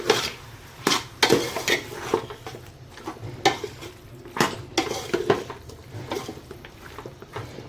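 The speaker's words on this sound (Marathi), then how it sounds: "वाटण हलवून घेते" A spoon stirs ground masala paste in a metal pan for mutton rassa, giving irregular scraping knocks and clinks at a steady, unhurried pace, close and moderately loud with no talking.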